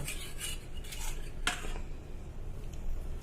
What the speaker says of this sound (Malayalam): നമ്മുടെ ഈ മുട്ട നമുക്കൊന്ന് നല്ലതുപോലെ അടിച്ച് പതപ്പിക്കാം